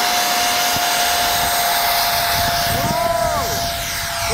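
A foam board RC jet with a 70 mm ducted fan on 6S power screams loudly and steadily at full throttle during a rolling takeoff, with a sharp whine that shifts pitch as it passes close by.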